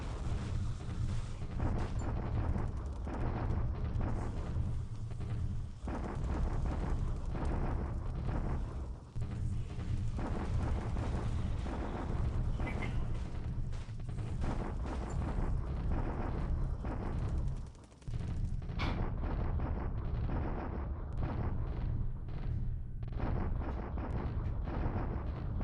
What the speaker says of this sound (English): It's your daily obligatory bombardment at Chungking.